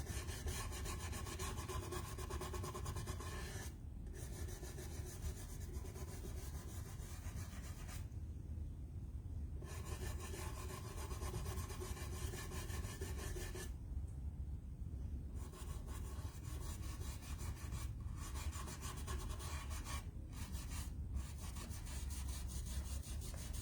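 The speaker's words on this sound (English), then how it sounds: "Let me wipe just a little bit here" A cloth rubs wax over a painted wooden French provincial dresser in a continuous close, rasping back-and-forth swish, steady and fairly quiet, broken by a few brief pauses.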